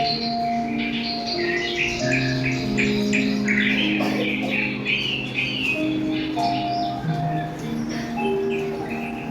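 Birds chirping and tweeting in quick scattered bursts, mixed with steady tonal sounds in the background, continuous throughout.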